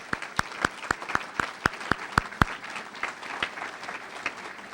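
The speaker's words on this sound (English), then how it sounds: "So maybe we can get a round of applause for them." Applause for teachers and staff at an adult education graduation, with one loud nearby clapper striking a steady rhythm of about a dozen sharp claps over softer crowd clapping that carries on after.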